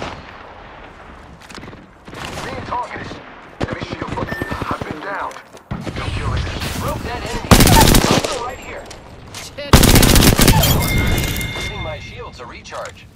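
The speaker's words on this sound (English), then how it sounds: "The enemies are shooting at me." Enemy gunfire in the battle-royale shooter Apex Legends: loud automatic bursts and single shots come in waves, rising to heavy sustained volleys near the end, with game voice lines over some of it.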